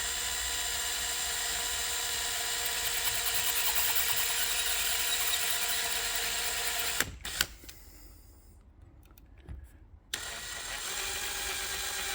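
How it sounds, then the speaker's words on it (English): A steady whining drill runs continuously, close and loud, drilling out the lock plugs of an Abus XP1 padlock with a 1.5 mm bit, then cuts out into near silence with a few clicks before the motor whirs back up. "Now it's time to drill them out."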